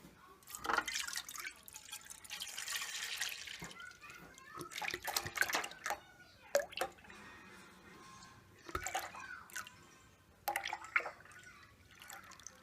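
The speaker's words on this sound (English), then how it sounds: "now I am going to pour the milk into the pan." Milk pours and splashes into a pan in uneven bursts, with drips and clinks of a vessel between pours.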